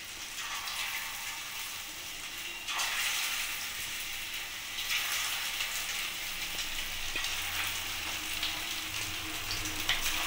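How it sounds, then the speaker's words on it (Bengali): Marinated chicken pieces deep frying in hot oil in a wok, a continuous dense bubbling sizzle heard up close and alone, swelling slightly as pieces are added. "অল্প অল্প করে দিয়ে আমি চিকেনগুলোকে ভেজে নেব"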